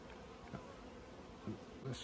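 Honey bees buzz softly and steadily around a hive, with a few individual bees droning louder as they pass close by.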